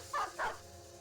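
Dogs in the video game Battle Brothers give two quick, close barks in a row, followed by a quiet background hum.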